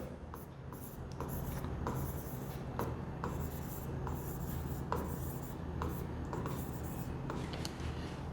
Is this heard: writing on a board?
yes